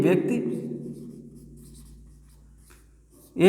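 A black marker writes on a board with soft, scratchy strokes that trail into near-silence, while a voice speaks at the start and again briefly at the end.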